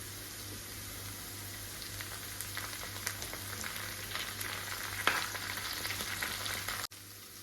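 Chopped green chillies and curry leaves sizzle steadily in hot oil for a Kerala-style lemon pickle, a continuous close frying hiss with faint stirring that cuts off abruptly near the end.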